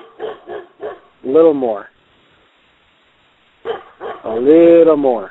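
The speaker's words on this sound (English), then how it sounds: "I can hear our bloody dog next door barking his head insanely off." A neighbour's dog next door barks in two clusters of short, sharp yaps, each cluster ending in a longer, wavering bark, fairly loud and separated by a quiet gap. A voice speaks around them.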